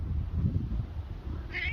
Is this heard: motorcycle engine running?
no